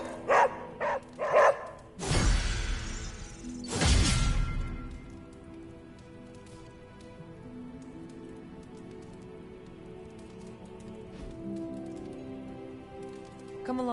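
A dog barks in Marvel's Midnight Suns, two loud broad bursts a couple of seconds apart, set among scattered light clicks and a quiet tonal game backdrop that lingers afterward.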